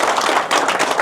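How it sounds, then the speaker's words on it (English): A live sales-training audience claps for a participant in a brief, close burst of applause, rapid and dense. "Give him a round of applause, man"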